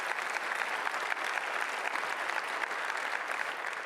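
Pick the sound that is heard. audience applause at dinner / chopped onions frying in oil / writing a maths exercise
audience applause at dinner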